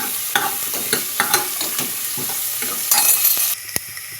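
Onions sauté in hot oil with fennel seeds, crackling and sizzling up close as a spatula stirs and scrapes the pan in a quick, uneven rhythm.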